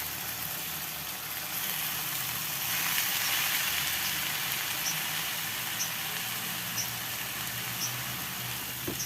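Boiled fern leaves go into a hot frying pan for an Indonesian stir-fry of fern and oncom, giving a steady, dense sizzle. The hiss is continuous and faint, with no talking.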